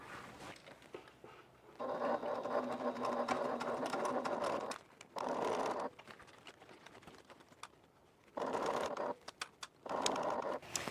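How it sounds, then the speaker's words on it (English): A sewing machine stitches the lining of a faux leather Burcham bag to its exterior, running in several loud, steady bursts of rapid stitching separated by brief pauses. "now I'm going to go ahead and stitch the lining to the exterior of the bag"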